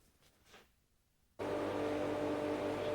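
Large dust extractor in a workshop where a carbide cutter gullets saw teeth: after a quiet start it switches on abruptly and holds a loud, steady whirring hum.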